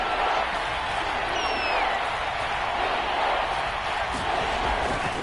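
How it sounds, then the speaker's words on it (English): Stadium crowd noise fills the Dome in an American football video game, a steady, dense roar of many fans that holds at an even level throughout. "The crowd here in the Dome making things difficult."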